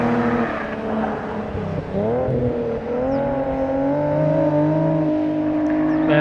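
A Nissan 370Z or Infiniti G37 V6 engine revs loud and close, the pitch sweeping down then climbing steadily in a sustained, continuous drone.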